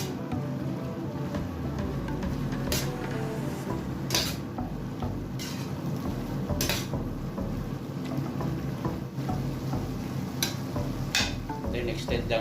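Beef bulgogi cooking in a pan, with a steady low sizzle and intermittent clinks and scrapes of a utensil stirring against the pan, close and continuous throughout.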